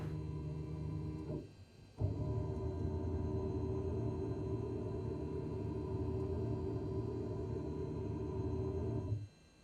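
The electric flap motor of a simulated Cessna 172 whirs steadily, briefly stopping and restarting, then running evenly for several seconds before cutting off.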